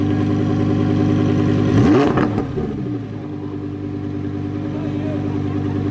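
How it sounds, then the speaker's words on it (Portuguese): A Lamborghini Huracan engine blips into a loud, rising rev partway through, its pitch sweeping up and then dropping back to a steady idle rumble, with people talking nearby. "Dá uma acelerada ali pra você ver."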